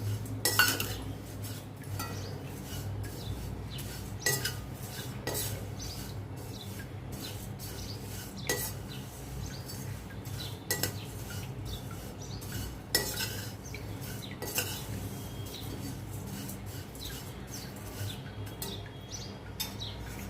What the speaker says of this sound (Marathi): धणे आणि जिरा भाजत आलाय, त्यातच आपण पोहे सुद्धा भाजूया